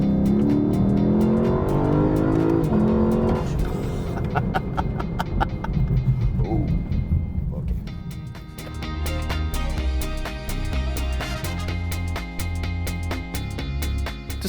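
A Lexus LC500 engine roars loudly after a downshift, then revs and falls back through several surges and gear changes. The sound is steady and close, with a deep rumbling tone.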